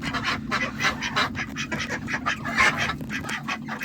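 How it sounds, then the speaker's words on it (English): Several ducks quack in rapid, overlapping bursts close by, a loud, busy chatter of nasal calls with no speech. "Goofy ducks."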